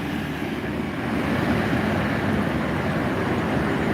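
Strong wind buffeting the microphone outdoors, a steady low roaring rumble that surges a little louder after the first second and stays constant, with no voices.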